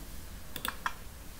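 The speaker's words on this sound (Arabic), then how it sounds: "وباستخدام الكيبورد بنختار كنترول زائد في اللي هو اللصق" Keyboard keys pressed for a Ctrl+V paste while working in a paint program: two quick, close clicks a moment apart, otherwise quiet with no talking.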